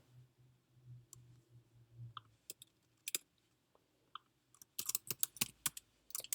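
Computer keyboard keys tapped in quiet short bursts, sparse single clicks at first and then a quicker cluster of typing toward the end, close and fairly soft with no talking.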